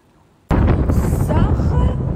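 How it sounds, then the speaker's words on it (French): Wind blowing straight into the microphone outdoors, bursting in suddenly after a quiet half second as a loud, continuous low rumble and buffeting roar that lasts to the end. "C'est pas ses cheveux ou quoi, c'est vraiment le vent."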